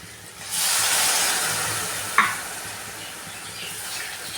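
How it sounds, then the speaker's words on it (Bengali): Water poured into a pan of oil-fried potatoes for aloo dum sets off a sudden loud, steady hiss and sizzle that holds for several seconds, with a brief clink partway through. "এবার আমি দেব জল।"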